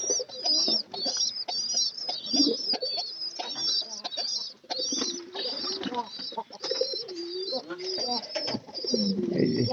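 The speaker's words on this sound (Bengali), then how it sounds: "এই যে পায়রিটা বাচ্চাগুলোকে খাবার খাওয়াইতে আসছে" Pigeons coo and call close by in a loft where adults feed their chicks, a busy overlapping stream of throaty coos and chirps with soft flutters throughout.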